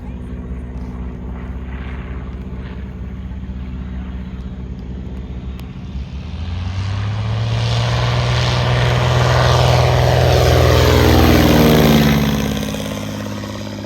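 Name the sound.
Stinson L-5 Sentinel propeller airplane flying past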